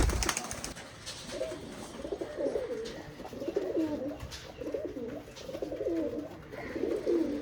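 Oman Teddy pigeons, a breeding pair, coo in repeated rhythmic phrases close by, a steady run of soft throaty calls with a faint background hum.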